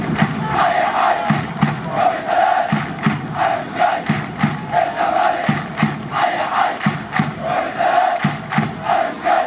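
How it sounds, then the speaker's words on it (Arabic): Zamalek football fans chanting at a match against Pharco at the Arab Contractors stadium, a large crowd roaring rhythmic chants in repeated swells, loud and continuous. "الهتافات اللي حصلت في ماتش فاركو في ملعب المقاولين العرب"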